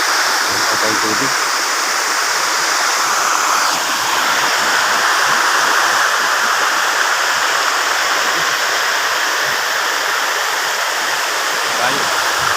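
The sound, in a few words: waterfall at Malingin Falls, Bohol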